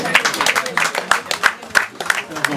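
Guests at a customary wedding clap in quick, uneven bursts, close and lively, with voices talking and calling out over the applause.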